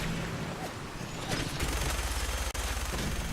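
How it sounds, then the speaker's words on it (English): Rapid bursts of Fallout 4 video game gunfire crackle continuously over a dense, noisy background, with a rumbling low-end pulse joining partway through. "gunshots"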